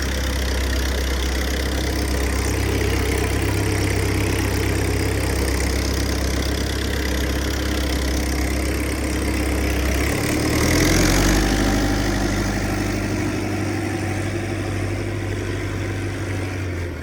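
Large tractor engine running on a farm during maize season, a steady deep low-pitched idling drone heard close, briefly shifting and revving around the middle before settling, with no talk over it.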